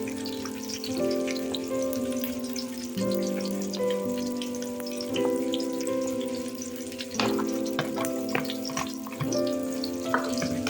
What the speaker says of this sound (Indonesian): Kemudian kita tumis semuanya ya sampai berbau harum dan wangi ya masakan ini, bumbu-bumbu ini.